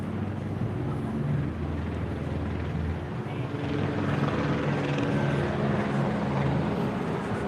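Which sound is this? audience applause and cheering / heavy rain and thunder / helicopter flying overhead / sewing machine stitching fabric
helicopter flying overhead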